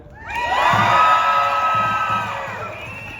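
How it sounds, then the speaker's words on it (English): A rally crowd lets out a loud collective cheer of whoops and shouts, swelling quickly and then tapering off over a few seconds. "Give a cheer if you participated in a boycott this year."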